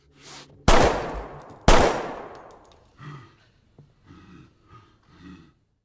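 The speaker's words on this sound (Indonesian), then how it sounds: "Ovi membantu Tyler dengan menembak Gaspar" Gunshots in an action-film scene: two loud, close blasts with long decaying tails, followed by several softer, shorter pops and thuds, with no talk.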